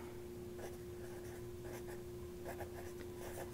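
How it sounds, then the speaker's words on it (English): Pen or pencil writing maths on paper, steady soft scratching strokes in short bursts close to the mic over a faint constant hum, no talking. "and let's just write up here"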